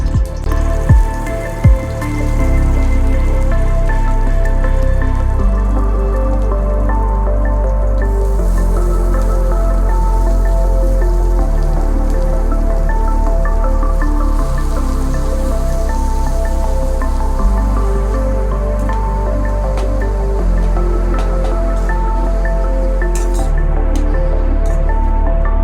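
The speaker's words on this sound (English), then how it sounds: "add 1 tablespoon of oil and fry the remaining onions, tomato and ginger garlic paste" Onions, tomato and ginger garlic paste fry in a tablespoon of oil in a pan for a capsicum curry, giving a steady close sizzle and crackle that runs throughout under a low droning hum.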